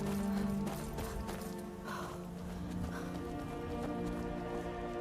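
A horse gallops in the game Skyrim, steady rhythmic clip-clop hoofbeats under game music, moderately loud and continuous.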